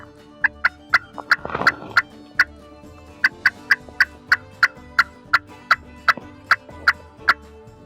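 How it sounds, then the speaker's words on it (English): A Primos Power Crystal turkey call is worked in sharp, loud, close cutting clucks, about twenty crisp yelps in a fast, slightly uneven rhythm with a brief flurry near the start and no talking. "I do a lot of cutting. I try to cut to locate turkeys, get them to gobble."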